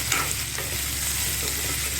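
Okra and onion stirred and fried in a pan, a dense continuous sizzle with scraping stir strokes close by, no speech.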